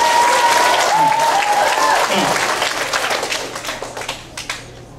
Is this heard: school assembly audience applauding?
yes